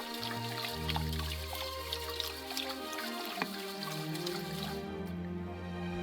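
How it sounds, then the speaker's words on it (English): Water pours and sloshes over rice being rinsed and drained for buttered corn rice, with steady trickling and dripping throughout and a few brighter splashes, close and moderately loud. "You'll then rinse the rice one more time about 20 times."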